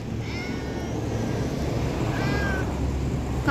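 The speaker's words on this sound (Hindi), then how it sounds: "अपनी बिल्ली नहीं है, कोई और ही बिल्ली है।" A stray cat meows near a roadside matka tea stall, two rising cries in the middle distance over constant traffic and street noise.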